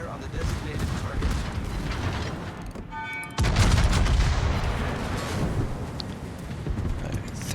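Naval gunfire in a warship video game: repeated heavy booming salvos and rumbling blasts, loud and dense throughout, with a brief lull before another strong volley.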